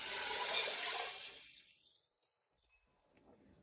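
Water pouring for cooking two cups of black beans, four cups in all, a steady splashing rush for about a second and a half that cuts off, leaving near silence with faint drips.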